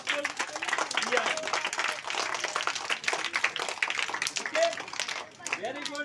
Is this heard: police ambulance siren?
no